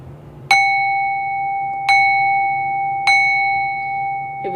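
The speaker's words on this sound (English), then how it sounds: "the sound of 3 bells removes any lingering, monitoring spirits" A bell rings three times at an even pace, each clear, bright strike left to hum on before the next, loud and close with no voices.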